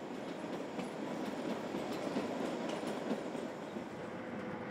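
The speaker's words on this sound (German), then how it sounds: "Nach knapp einer Stunde Fahrzeit überquert der Zug die mit etwa 100 Metern längste Brücke." Kalka-Shimla narrow-gauge train in India crossing a long bridge, a steady rolling rumble with faint rhythmic wheel clicks, moderately distant and continuous without talk.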